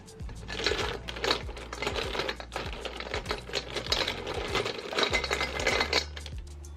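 Plastic markers rattled and clattered together by hand, a dense run of small clicking knocks lasting several seconds, close and fairly steady, with no talking.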